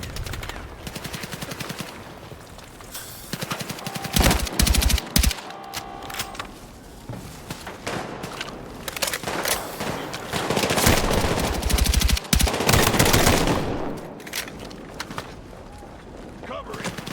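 Automatic and rapid gunfire from a Battlefield 6 night-raid combat mission, with dense bursts of shots and loud volleys around four and eleven to thirteen seconds, amid battle noise and occasional voices.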